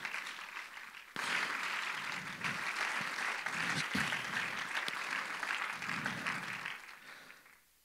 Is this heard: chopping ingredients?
no